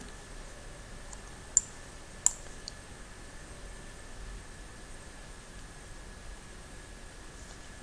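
Two or three faint, sharp computer mouse clicks come at a desk during 3D map work in Oracle Spatial Studio, widely spaced against quiet background hiss.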